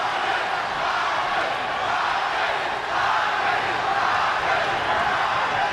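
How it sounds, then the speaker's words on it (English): Boxing arena crowd at a featherweight title fight chanting a fighter's name, a loud, dense, continuous roar of many voices with a rhythmic swell, filling the space without pause. "Crowd chanting Marquez, Marquez, Marquez"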